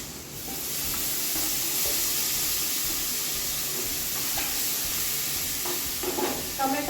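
Curry leaves, garlic and ginger dropped into hot oil for tempering, a steady broad sizzle and hiss that swells early and holds loud, with faint stirring clinks near the end.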